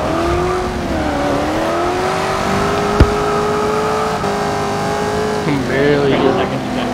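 Cars pulling away in a Forza Horizon 2 street race featuring a 302 Foxbody, GTO, S15 and Z2, with sustained loud engine drones rising and shifting in pitch, a sharp click midway and people talking over it.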